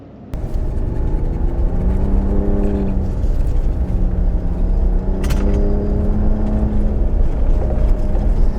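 A 2025 Ram RHO pickup truck drives off-road with a steady, loud engine drone and low rumble that shifts pitch as it climbs and settles, continuous throughout with no voices.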